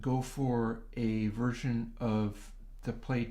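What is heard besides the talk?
No everyday noises stand out.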